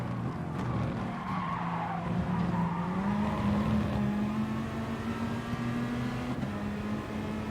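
A racing car in Gran Turismo Sport holds a long, continuous tyre skid. Its engine drones steadily and slowly rises in pitch underneath, all at an even, fairly loud level.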